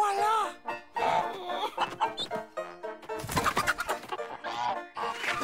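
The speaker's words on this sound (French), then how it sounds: "Monsieur Peabody, derrière vous, des poules avec des dents" Cartoon hens with teeth clucking in a French animated comedy episode, a burst of squawky fowl calls mixed with music and character voices.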